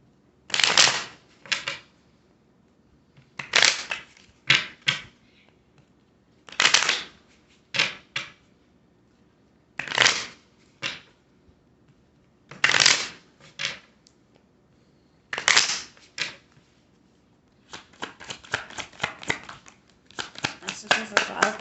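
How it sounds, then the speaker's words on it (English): Tarot cards are shuffled in repeated crisp riffling bursts with brief pauses between, ending in a longer run of rapid card flicks, all close and clear with no talking. "Cards. I'm already dropping cards."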